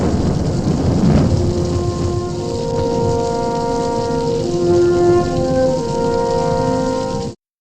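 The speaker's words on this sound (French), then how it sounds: "Le film s'ouvre sous une pluie battante." Heavy rain pours down in the night opening of the western Seven Men from Now, a loud dense hiss with a rumble of thunder early on and sustained musical tones rising beneath it before it cuts off.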